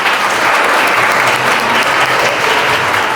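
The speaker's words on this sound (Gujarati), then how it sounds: "આપણે સૌ તેમનું તાળીઓથી સ્વાગત કરશું" An audience claps steadily, welcoming a group of women at an institution for the blind, with dense continuous applause from a crowd filling the room throughout.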